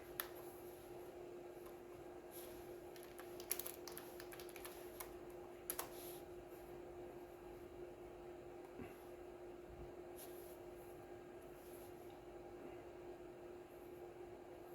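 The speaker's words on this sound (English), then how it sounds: "just type in what we want" Sparse, faint keyboard clicks come in a few brief clusters as text is typed into a browser on a smart projector setup, over a steady low room hum.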